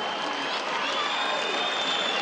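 A packed Liverpool boxing arena roars after a second-round knockout of David Price by Tony Thompson, a loud, sustained wash of crowd noise and applause with no letup.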